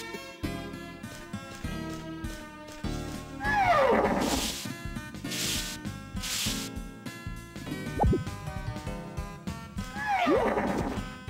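A horse in Harvest Moon: Magical Melody whinnies twice, with two rising and falling neighs over steady game music, plus brushing and rubbing sounds between them.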